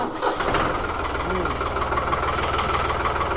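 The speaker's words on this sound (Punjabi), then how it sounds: "ਇਹਨੂੰ ਸਟਾਰਟ ਕਰਕੇ ਦਿਖਾਇਓ ਲੈ ਮਿੱਤਰੋ ਆਪਾਂ ਇਹਦੀ ਵੀ ਵੜਕ ਦੇਖ ਲਈਏ" A New Holland 3600 tractor engine runs steadily at a fairly loud, close diesel idle, a continuous low throb with a faint voice in the background.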